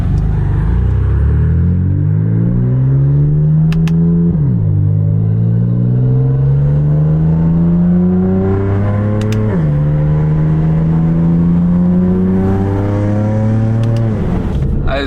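A BMW F80 M3 revs hard with a loud, close exhaust note, climbing in pitch through three long pulls, each broken by a sharp drop as it shifts up, then rising again.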